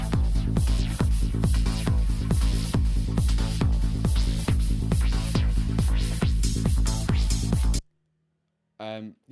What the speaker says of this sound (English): Like driving deep bass line.